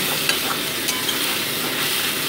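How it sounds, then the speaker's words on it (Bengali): Onion and chilli spice paste fries in hot oil with a continuous dense sizzle and light stirring scrapes, close and steady. "এবার ওই তেলের ওপরেই এই যে মশলা পেস্টটা করে রেখেছি ওই মশলা পেস্টটা দিয়ে দিলাম"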